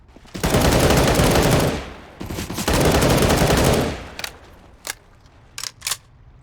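Video game gunfire: two long, loud bursts of rapid automatic fire are followed by several short, separate shots and brief bursts, with no talking.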